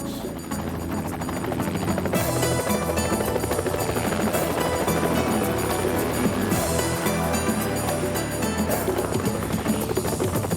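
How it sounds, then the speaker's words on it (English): Continuous loud helicopter rotor and engine noise, steady and close, with a dense whirring texture throughout, on a sightseeing flight over Niagara Falls. "it's by helicopter, where you get to hover over the Niagara area and its countless attractions"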